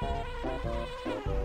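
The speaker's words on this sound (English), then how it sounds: "These bees are gonna kill me, aren't they?" Bees in the video game Banjo-Kazooie give a close, continuous buzz that pulses in pitch for a second and a half.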